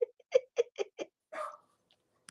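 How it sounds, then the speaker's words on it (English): Dogs bark in a short run of sharp, close yaps, five in quick succession, then a longer rougher bark and a faint final yip, with nothing else heard. "I had dueling dogs in there."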